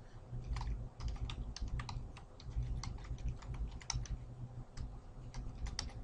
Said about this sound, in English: I'm going to type in a new password.